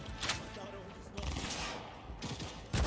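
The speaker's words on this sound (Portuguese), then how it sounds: "Tô errando os tiros." Gunfire from the video game Cyberpunk 2077: a few sharp, loud shots come in separate bursts spread across the stretch, over a steady background of game sound.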